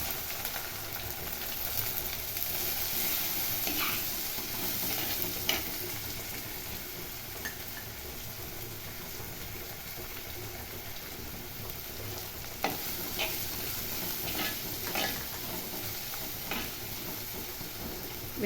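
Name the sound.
onions frying in oil after mustard seeds spluttered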